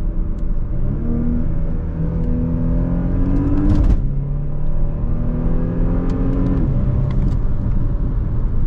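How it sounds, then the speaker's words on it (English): A Porsche Panamera 4 engine revs up from inside the cabin, rising in pitch, then drops sharply at a paddle-shift upshift and climbs again through further gears, loud and steady with no talk. "Let's check out the paddle shifters."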